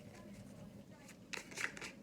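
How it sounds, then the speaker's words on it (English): Tarot cards are shuffled by hand, with soft papery riffling bursts clustered near the end over a low, steady room background. "I'm just shuffling, and these cards are going to be coming out"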